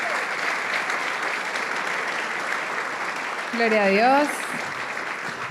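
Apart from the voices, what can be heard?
church congregation applause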